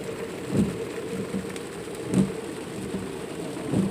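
Steady rain falls over an old-fashioned small town's shopping street, a constant wash of hiss with a few louder dull thumps of drops or passing sounds, moderately faint and without voices.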